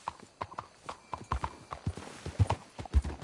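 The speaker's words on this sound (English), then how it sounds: "Let's hitch the horses up ahead." Horses' hooves clip-clop in steady uneven beats in Red Dead Redemption 2, close and moderately loud, with a few heavier thuds near the end and faint background ambience.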